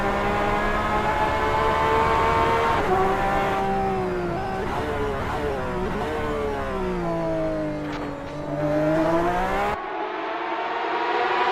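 A 2018 Porsche 911 RSR roars at Spa on a wet track, its engine note loud and steady, pitching up and down through gear changes and revs, before cutting abruptly near the end.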